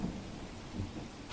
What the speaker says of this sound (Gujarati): સવારના સમયમાં અચાનકથી વરસાદની શરૂઆત થતાં રસ્તા પાણી પાણી થઈ ગયા